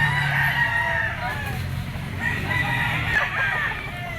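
A rooster crows at a gamefowl sale. It is an 18-month-old yellow-legged Sweater Gilmore Picom bloodline bird. Its crowing carries over a busy background with other fowl clucking and faint voices nearby.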